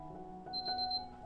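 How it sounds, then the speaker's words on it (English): An alarm beeps during a sewing session, with a short high electronic tone that repeats rapidly for about half a second over a faint room hum, fairly quiet and close. "Now in the blink of an eye my alarm went off"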